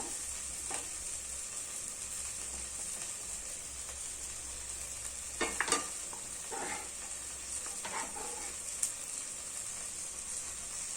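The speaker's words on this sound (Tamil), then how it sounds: "அதுக்கு மேலே நம்ம வந்து இன்னும் கொஞ்சம் கிரேவி சேர்த்துக்கலாம்" Gravy is added to egg biryani in a clay pot and stirred, a steady close sizzle and hiss broken by a few scraping, stirring clatters midway.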